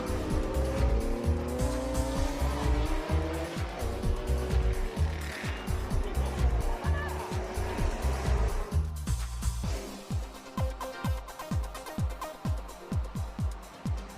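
Older Japanese performance cars race at a historic racing meeting at Tsukuba circuit: a steady engine roar with tire squeal, breaking into rhythmic revving pulses as the cars pass.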